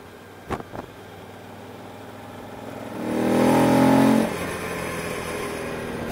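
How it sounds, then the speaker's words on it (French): A repaired motorcycle engine runs after a garage fix, rising into a louder rev around the middle and then dropping back to a steady idle. The running is fairly smooth, with two brief sharp knocks near the start. "la moto fait beaucoup moins de bruit"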